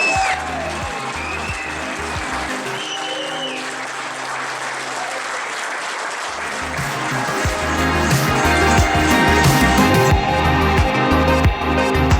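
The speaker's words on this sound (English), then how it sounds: "Give it a round of applause." Audience applause for the winner of the FLW small craft fishing championship 2018 at Boskop Dam, sustained steady clapping across the whole stretch that swells louder near the end, with a few voices mixed in.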